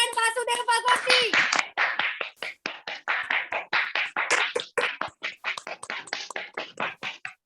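Audience applause welcoming Vasudeo Bhagor, a Star Gold Lion from Jaipur, to the stage at an event, as a host's voice fades out. Steady clapping that thins into sparse, separate claps near the end.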